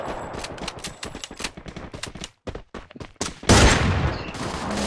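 Rapid automatic gunfire from a shooting video game rattles in dense, loud bursts, broken by a brief gap before a heavier, sustained blast takes over near the end.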